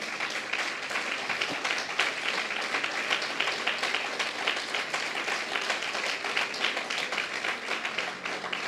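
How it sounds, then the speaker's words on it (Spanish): A church congregation applauding, a dense continuous wash of many hands clapping at moderate distance, sustained evenly for the whole stretch without pauses. "dale un fuerte aplauso al Señor"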